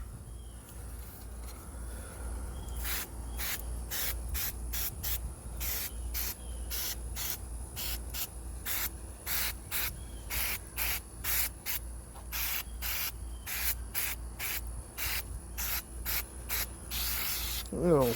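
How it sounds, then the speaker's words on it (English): Duck fat sprayed onto chicken thighs on a barbecue grill in repeated short hissing bursts, fairly close and loud, over a steady low background rumble. "take some of this here duck fat and spray it down and get the skin really crispy"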